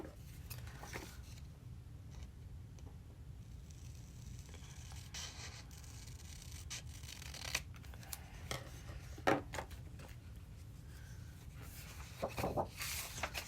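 Scissors snip through paper to trim a piece to exact size for a grid notebook collage, a few quiet, separate cuts close by with soft handling rustle between them.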